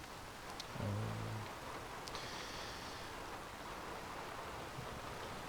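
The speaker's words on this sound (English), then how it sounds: "you can hear the rain drops on the roof, and you can hear the storm going on outside." Steady, soft patter of rain on a roof in a modded video game, with a low rumble of storm in the background, continuous and fairly quiet.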